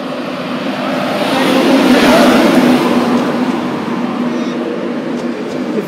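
A Class 91 electric locomotive on a VTEC service rolls into Doncaster station with a broad, steady rumble and rising rush that swells toward the middle, then stays loud and close.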